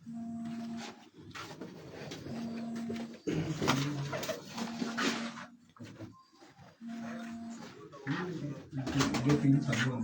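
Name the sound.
pigeons cooing on a rooftop loft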